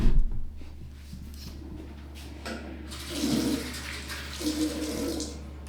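Running water from a tap splashes steadily during face washing at a bathroom sink, with two brief louder pours near the end.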